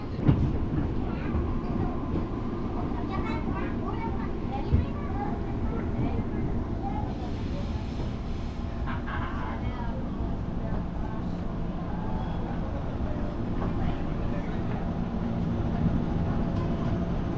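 KRL commuter train entering the station: a steady, moderate rumble of the cars heard from on board, with a few faint knocks and soft voices under it.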